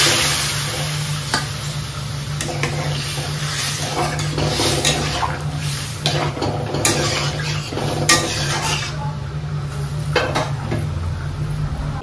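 Boiled bottle gourd with a little water sizzling in a hot pan, a steady frying hiss with the scrape and clatter of stirring utensils against the pan throughout, with no talking.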